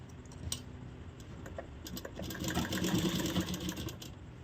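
A sewing machine stitches along the bottom hem of a blouse, a low steady whirring that builds through the second half, close and moderately loud with faint clicks above it.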